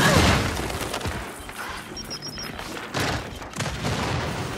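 A grenade blows up in the Gears 5 video game, a loud burst at the start fading into rumbling debris, with further booming gunfire hits around the middle and end.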